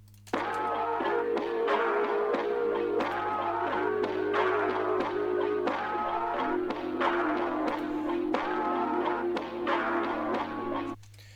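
A dark, gritty melodic sample time-stretched down to 90 BPM loops steadily over a constant low hum, with a bell-like tone and rhythmic plucked notes that end abruptly.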